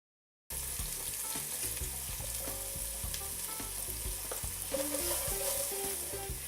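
Onions and garlic sizzle steadily in a pan while cooking ratatouille, a continuous close frying hiss with occasional stirring clinks and scrapes, no voices.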